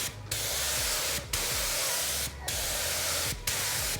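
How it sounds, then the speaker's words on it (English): Primer hisses from a spray gun onto a Honda Integra in steady, close bursts of about a second each, separated by brief pauses in a regular rhythm, with no speech. "I'm just gonna go ahead and spray it like that"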